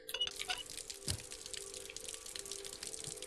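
Shower water running in the video game Ether One, a steady hissing spray with faint drips underneath, even and moderately quiet throughout, with no voices.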